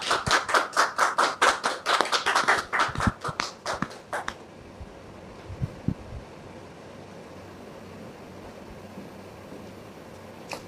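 A studio audience claps rhythmically to welcome a guest on a Christian drama talk show, brisk loud clapping for about four seconds that then stops abruptly, leaving a quiet hum with a couple of faint taps.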